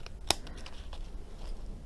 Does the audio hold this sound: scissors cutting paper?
yes